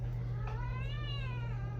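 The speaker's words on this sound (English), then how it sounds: "That's my cat." A pet cat lets out a single drawn-out, rising-then-falling meow close by, clear over a steady low electrical hum.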